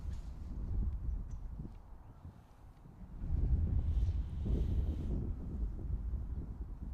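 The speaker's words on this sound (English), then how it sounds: "Oh, that wind." Wind buffets a microphone outdoors at Manchester Airport during winter plane spotting, a low rumbling roar that swells and eases, growing stronger midway through.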